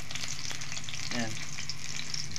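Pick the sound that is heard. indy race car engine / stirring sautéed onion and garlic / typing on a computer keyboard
stirring sautéed onion and garlic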